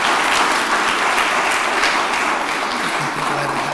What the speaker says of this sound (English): Shower him with applause, please.